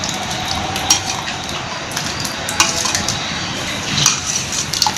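Yogurt (dahi) goes into a pot of biryani masala in a home kitchen, with soft scraping and stirring broken by several sharp, close clinks of a metal spoon against the pot.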